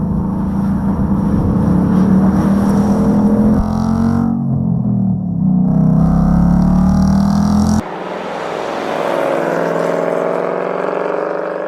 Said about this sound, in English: they just modified the exhaust system, the airflow, the intake system, and it sounds amazing